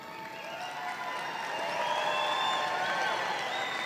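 A large commencement crowd at Angelo State University cheers and whoops over steady applause, a continuous wash of sound with shouted voices, heard from a distance in a big hall.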